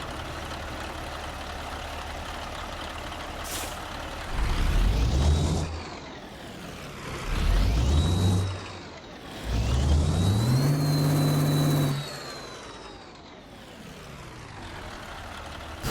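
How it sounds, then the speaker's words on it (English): A Cat 1693W truck engine with Jake brake, 425 horsepower and a 12-speed gearbox, in American Truck Simulator, idles low and then roars through three rising revs, each swelling loudly before dropping back to a rumbling idle. "today we are checking out the Cat 1693W with the Jake brake option, the 425 horsepower with an M drive 12-speed"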